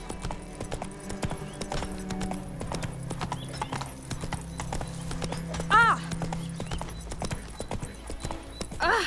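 Roach, a horse in The Witcher 3, gallops with steady clip-clopping hooves over a game soundscape with music and a brief whinny-like tone partway through.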